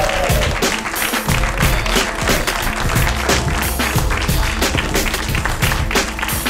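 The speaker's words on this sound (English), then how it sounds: "Ladies and gentlemen, big round of applause for the very funny Vik Pandya." Audience at a Chicago comedy show applauding as a comedian is introduced, steady dense clapping with some cheering filling the whole stretch, loud and close.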